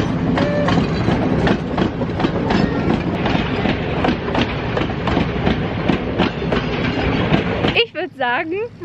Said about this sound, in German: Wir haben das Glück, wir sehen jetzt einen Zug.